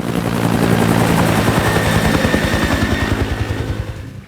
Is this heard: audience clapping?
no